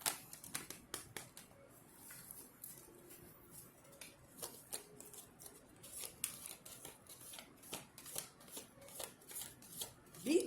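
Tarot cards are shuffled in quiet, repeated riffling and flicking bursts close up, faint and intermittent throughout.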